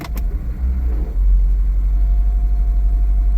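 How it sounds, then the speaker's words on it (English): An Acura RSX with a new intake and freshly swapped transmission fluid gives a short grinding pop as it shifts out of reverse, then settles into a loud, steady engine hum close by. "A little grind pop sound, and it jerked the car a little bit forward and back."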